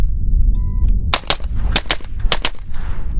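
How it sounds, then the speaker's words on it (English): A short-barrel rifle fitted with a very short suppressor fires loud, sharp gunshots in daylight, coming as quick pairs of cracks over a low rumble of background noise. "We've paired a very short suppressor with a very short barrel, so yes, it is loud and has plenty of muzzle flash."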